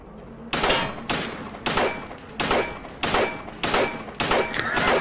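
Sustained gunfire in the survival horror game Silent Hill 2, a rapid series of about seven loud, close shots in steady rhythm, each with a sharp crack and short ringing tail, with no talk over it.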